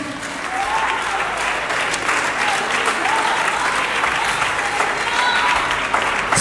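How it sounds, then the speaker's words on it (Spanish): A church congregation applauds for Christ during a Spanish-language worship service, sustained loud clapping from a full room that holds steady throughout. "Dale un aplauso a Cristo."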